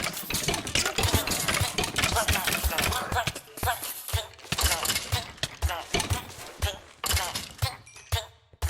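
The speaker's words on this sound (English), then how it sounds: "This is a very basic mob grinding farm." Minecraft-style mob grinding farm with wooden spikes, a dense, continuous clatter of rapid hits and mob noises, loud and busy for several seconds before breaking into shorter bursts.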